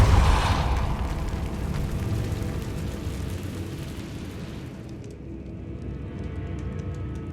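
A Repulso spell in Hogwarts Legacy goes off with a forceful whooshing burst at the start, rolling into a sustained rumbling wash that gradually thins and fades, with no voices.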